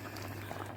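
Water bubbles in a cooking pot while Port Said shakshuka is being made, a faint, steady simmering burble with a low hum beneath it over a brief moment.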